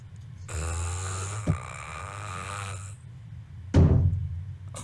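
A person snores in long, rumbling breaths, two drawn-out snores with a brief pause between, close and fairly loud with no talking.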